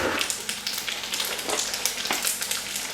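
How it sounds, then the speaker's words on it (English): Spaghetti balls dropped into hot grease, a loud, close, crackling fry with bursts of popping and sputtering throughout, no voices. "drop the rest into our grease. And we're going to let that fry"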